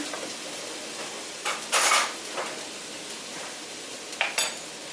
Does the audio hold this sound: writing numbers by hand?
no